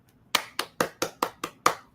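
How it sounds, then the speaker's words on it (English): Clapping for a performer at a small late-night comedy show: seven sharp, close, evenly spaced claps in quick succession, sounding like a single pair of hands in a quiet room. "let's give a warm, rousing applause"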